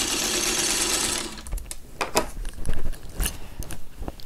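A sewing machine stitches a nine patch quilt block in a continuous whirring burst, then stops, followed by scattered clicks, taps and fabric handling noises.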